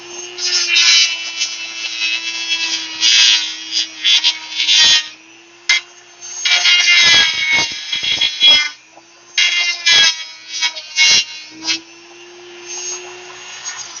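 Power tool cutting into a terracotta pot, making a harsh, gritty grinding whine in repeated bursts of a few seconds each, broken by brief pauses and a steady low motor hum.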